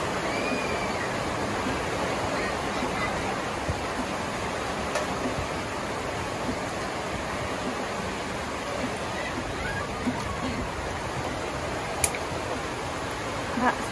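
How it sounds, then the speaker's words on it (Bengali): Heavy rain falling at a village house during a power cut, a steady dense hiss with occasional sharp drips standing out, continuous throughout. "সব জায়গায় পানি পড়ছে।"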